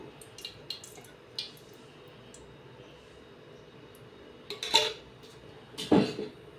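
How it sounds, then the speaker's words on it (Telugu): Oil is poured into a kadai for tempering, with faint dripping and quiet clinks of metal pans and utensils against a low kitchen background hum, ending in two sharper clatters near the close. "ఆయిల్ వేసుకుంటున్నాను."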